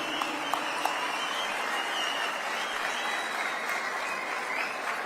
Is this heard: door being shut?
no